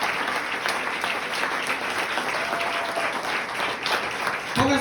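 Church congregation applauding during a Spanish-language worship service, a dense, continuous wash of clapping from many hands filling the room, steady and fairly loud throughout with no one speaking over it.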